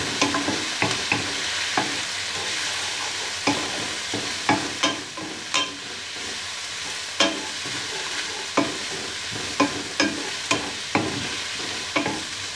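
Mushrooms fry in a pan with teriyaki sauce, a constant close sizzle broken by a dozen or so sharp clinks and scrapes of a spoon as the mixture is stirred.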